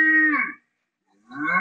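Two low, drawn-out cow moos separated by a short silence, close and clear with no other sounds.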